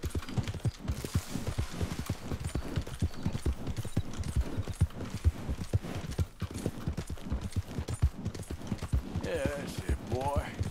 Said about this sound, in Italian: Come dico al cavallo di correre? Ok, con la X.